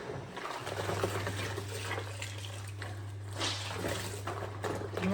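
Water runs from a tap in a steady, close splashing stream with a low constant hum underneath, and no one speaks.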